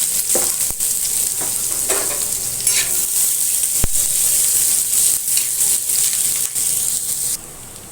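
Cumin, garlic cloves, green chillies and onions fry in a pan with a steady, loud sizzle, broken by occasional sharp clicks and scrapes of stirring.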